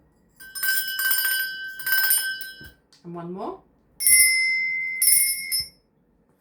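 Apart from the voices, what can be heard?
two different bells ringing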